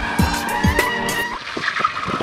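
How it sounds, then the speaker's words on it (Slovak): A car without ABS is braked hard and skids into a spin, with loud squealing tires and shifting screeches over engine noise, close by and with no talking. "Stačí len prudko zabrzdiť a okamžite sa dostávame do rotácie."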